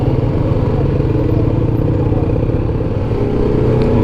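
Motorcycle engine running steadily on a mountain road in the Nathia Gali and Mushkpuri area of Galiyat, a loud, close, continuous low rumble mixed with wind noise and no speech.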